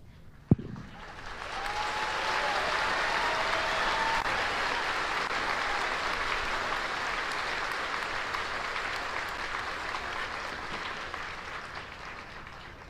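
A crowd applauds steadily for retirees and their families at an army retirement ceremony during basic training graduation, opening with a sharp bang and then a dense, even wash of clapping that holds for over ten seconds before easing slightly, with faint whistles.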